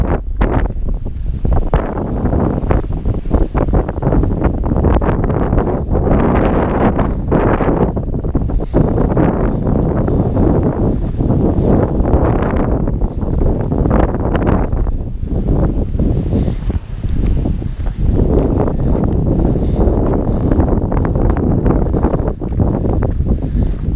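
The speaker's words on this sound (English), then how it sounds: "That wind is ripping." Strong wind roars across an exposed mountainside on a long-distance trail hike, buffeting the microphone with loud, continuous gusts that swell and ease for the whole stretch, with no talking.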